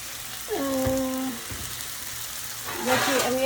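Water poured into a hot pan of cooking greens and potatoes hisses and sizzles in bursts, settling into a steady crackle. A person speaks at intervals over it.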